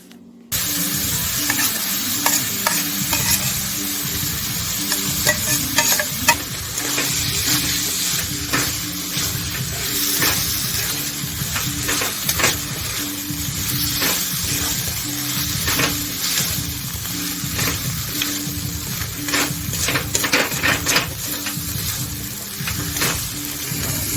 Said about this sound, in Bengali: আগের থেকে সিদ্ধ করে রাখা আলু আর মটরগুলো দিয়ে এবার ভালো করে সবকিছুকে কষাতে থাকবো